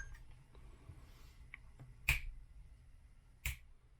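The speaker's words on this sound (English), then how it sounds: "So you see I'm kind of snapping my fingers in real time." Two crisp finger snaps, spaced more than a second apart, ring out sharply over a quiet room hum.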